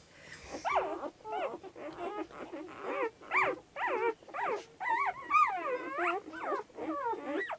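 Newborn puppies in a whelping box at an alpine pasture hut whimper and squeal continuously, many high wavering cries close by and fairly loud, with no talk over them.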